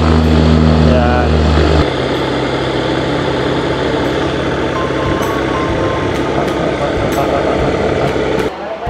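An airplane touches down and rolls out, its engine and cabin roar forming a loud, steady wash that eases slightly after the first couple of seconds, with faint voices mixed in.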